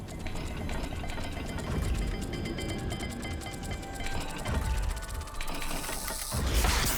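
A dial puzzle mechanism turns in Hogwarts Legacy with continuous grinding, ratcheting and gear clicks, a sustained mechanical churn that swells toward the end, without speech.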